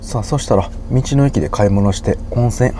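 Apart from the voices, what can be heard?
No everyday noises stand out.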